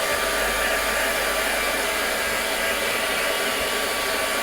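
A hair dryer blows steadily on a freshly spray-painted craft project, a loud continuous whoosh with a low motor hum that holds evenly throughout with no talking.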